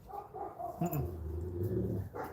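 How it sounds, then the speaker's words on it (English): A dog whines and growls in a steady, drawn-out tone, close by, with a brief higher yelp near the middle; no talking. "I don't want you going over there and barking."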